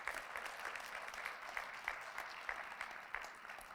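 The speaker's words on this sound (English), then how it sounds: "You can give a round of applause for that if you feel like it" Audience at a Black History Month kickoff brunch giving a round of applause, a soft, distant patter of many hands clapping steadily throughout.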